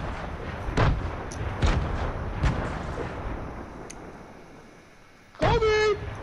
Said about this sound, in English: I'm about to throw grenades